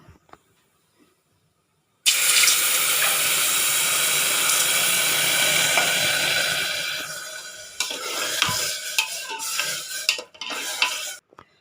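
Water poured into a pressure cooker onto fried toor dal gives a loud, steady hissing sizzle and pour for several seconds, followed by stirring and clattering of a utensil against the pot.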